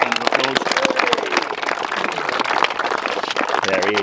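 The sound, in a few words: applause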